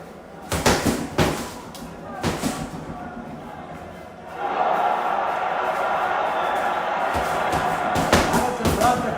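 A boxing crowd swells into sustained cheering and roaring midway through a bout, with dull thumps of punches and commentary talk heard before the roar rises and holds steady to the end.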